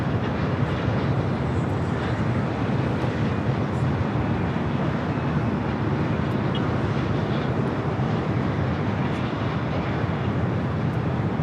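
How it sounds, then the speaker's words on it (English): British Airways Boeing 777-300ER arriving at Los Angeles from London Heathrow for a north side landing: a loud, steady broadband jet roar that holds at constant strength throughout, with no voices. "Looks like we're also getting British Airways, the second 777-300ER coming in from London Heathrow"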